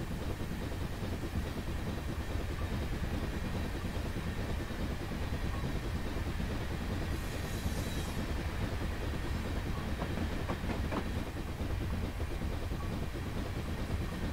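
A train rolls past in Train Simulator 2019 on the Sherman Hill route, a steady loud rumble with clickety-clack of wheels on rail joints filling the whole stretch, no talk.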